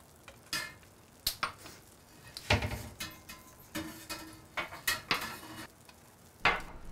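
Plates and dishes clatter in a home kitchen as a dinner is readied, with a string of sharp ceramic knocks and clinks at an irregular pace, close and fairly loud, with no talking.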